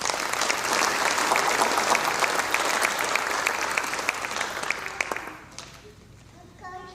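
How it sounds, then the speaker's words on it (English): Audience applause at a hall of fame induction ceremony in Canal Fulton, Ohio: loud, dense clapping from a crowd that holds steady and then thins out and fades toward the end. "Please give them all a round of applause."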